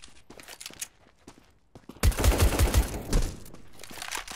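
Counter-Strike gunfire rings out in a rapid automatic burst, loud and close, after a few quieter scattered shots and footstep-like clicks.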